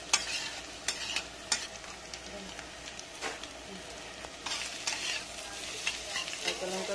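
Green chillies, chopped, stirred in a pan for pasta: a steady sizzle with repeated scraping stirs, fairly close and moderately loud throughout.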